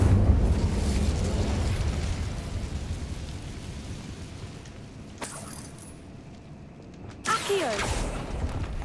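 A fire spell is cast in Hogwarts Legacy. A loud, continuous roaring burst fills the opening seconds, then dies down. Later a sharp crack is followed by a renewed fiery whoosh.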